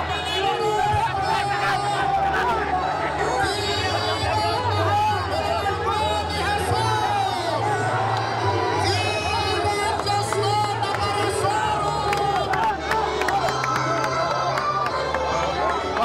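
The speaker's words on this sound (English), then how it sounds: "And the crowds are going crazy." A dense crowd at the Peñafrancia religious street procession roars and cheers around the sacred image of the Virgin, loud and continuous, with a thick layer of overlapping voices, shouting and excited chatter throughout.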